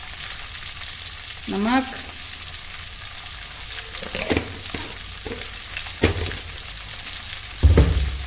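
Sem fali (flat beans) sabji frying in a pan sizzles steadily while a spoon stirs it with scraping clinks and knocks, including a louder clatter near the end. One brief spoken word.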